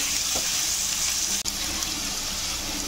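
Finely chopped onion frying in hot oil, with a steady, close hiss of sizzling and a faint clink partway through.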